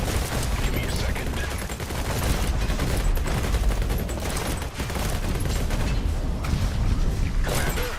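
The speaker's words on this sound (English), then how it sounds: "I love that the medic is shooting a heal gun" A medic fires a heal gun in a video game amid dense, continuous gunfire and bursts of shooting at steady loudness, with voices talking over the action.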